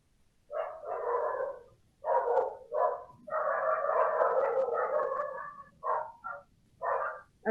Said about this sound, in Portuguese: Começou os latidos de cachorro aqui.